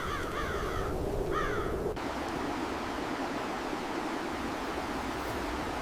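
Ravens calling near Yellowstone wolves in open wild country, two short bursts of harsh rasping caws early on, then steady wind-like rushing noise fills the rest.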